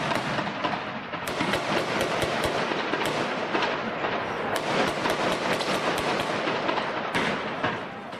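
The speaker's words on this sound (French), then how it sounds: "L'assaut final est donné, longuement nourri à l'arme automatique." Sustained automatic weapon fire during a police assault rattles in long, dense bursts for about eight seconds, loud and continuous with sharper individual cracks standing out.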